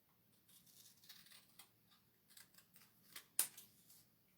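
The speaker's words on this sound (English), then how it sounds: "I'm just cutting on the cut lines. I'm just using scissors" Scissors snip along the cut lines of a Chalk Couture transfer sheet, a series of soft, irregular close-up cuts ending in one sharper snap, quiet with no talking.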